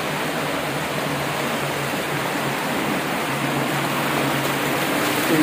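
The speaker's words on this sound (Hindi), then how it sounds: "तेजी से बहता हुआ पानी," Fast-flowing water in a renovated stone-lined channel at Nishat Garden in Srinagar, a constant close rushing wash that swells slightly toward the end, with no talk over it.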